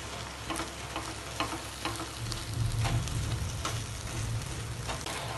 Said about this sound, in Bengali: এবার আমি ডিমটাকে এইভাবে করে একটু ঝুড়ো ঝুড়ো করে নেব।